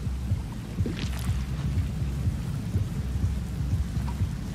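Steady rain hisses throughout with a low rumble of thunder underneath in the video game Rain World: Downpour, fairly quiet and constant, with no voices.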